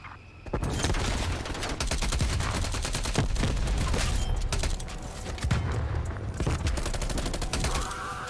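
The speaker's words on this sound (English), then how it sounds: "That's a flamethrower." Sustained roaring burst of a flamethrower firing in Call of Duty: Cold War multiplayer, loud and continuous for several seconds amid dense gunfire-like crackle and booms.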